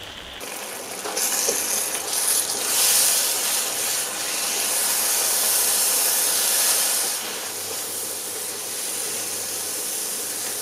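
Eggs cooking in hot oil in a pan for pad thai, giving a steady loud sizzle and hiss that swells in the middle and then settles to a constant frying sound.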